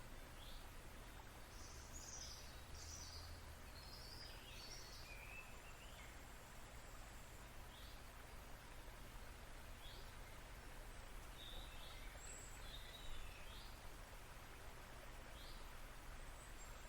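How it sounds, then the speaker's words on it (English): Faint, scattered bird chirps and short calls over a quiet outdoor hiss, distant and intermittent. "Just the sound of the birds."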